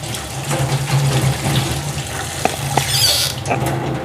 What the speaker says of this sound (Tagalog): Dito natin i-sahod sa gripo para matanggal talaga yung mga dumi.